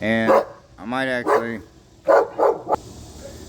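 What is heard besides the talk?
dog barking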